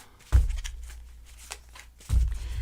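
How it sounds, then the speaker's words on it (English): Tarot cards are shuffled clumsily by hand in two short, close bursts of riffling and slapping, separated by a quieter stretch of soft card rustle. "what's going on down here where you can't see is a clumsy kind of a shuffle, but it's a shuffle nonetheless"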